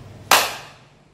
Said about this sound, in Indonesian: Yuk, tepuk tangan 1 kali.